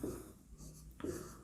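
Chalk or marker scratches across a board during a maths lesson in two short strokes, close and fairly quiet.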